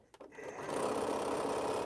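A sewing machine stitches quilt blocks for a Scattered Stars quilt, starting after a few soft handling knocks and then running in a steady, close, continuous whir for over a second.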